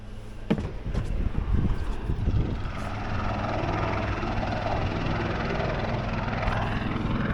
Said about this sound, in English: Let's see if we can see a helicopter.